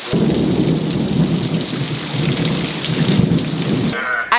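Heavy rain pours down steadily with rumbling thunder rolling underneath, a dense, loud wash of sound that cuts off abruptly near the end.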